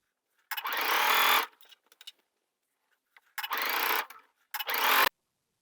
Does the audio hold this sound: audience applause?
no